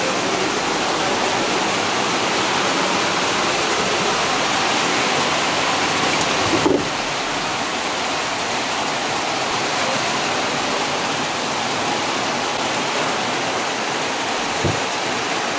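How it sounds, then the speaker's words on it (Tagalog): Very heavy rain pours down in a loud, constant hiss and roar with no letup, alone apart from a couple of faint knocks. "Sobrang lakas talaga ng ulan."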